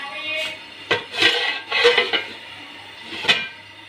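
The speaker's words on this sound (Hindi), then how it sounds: "ये हम बर्तन धोएंगे।" Dishes clattering during washing up in a home kitchen, a series of sharp metallic clanks and clinks of utensils and pots, close and fairly loud, in irregular bursts over a low steady hum.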